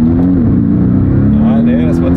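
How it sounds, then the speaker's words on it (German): Rear-wheel-drive manual car launching hard with stability control off, its engine droning loud and close with a steady rising tone as the wheels spin under acceleration. "sobald ich merke, er fängt an durchzudrehen, versuche ich mal hochzuschalten."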